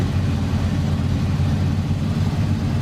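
Steady looped drone of a vintage Ford 534 cubic-inch V8 from an F800 truck, as a custom engine sound for American Truck Simulator, a loud even low rumble at constant mid revs with no change in pitch.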